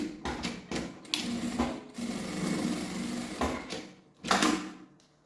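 A sewing machine stitches the lining at the bottom of a crossbody sling backpack, running in several bursts of fast, steady needle chatter separated by short pauses, close and alone with no talk.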